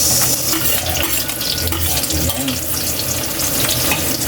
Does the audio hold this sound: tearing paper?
no